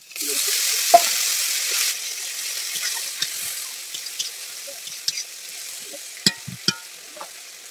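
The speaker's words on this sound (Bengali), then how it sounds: "তো মশলাগুলো ভালো করে কষা হয়ে গেছে।" Spices fry and sizzle in a pan for a Bengali home-cooked dish, a steady bright hiss with scattered clinks and scrapes of a spoon stirring, close and fairly quiet.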